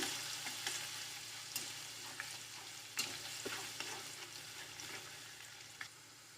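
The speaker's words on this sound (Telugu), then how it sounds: "తెల్లుల్లి బాగా వేయించుకోవాలి" Crushed garlic frying in hot oil in a pan for a coriander pickle, a steady close sizzle with occasional crackles and soft stirring scrapes, no voices.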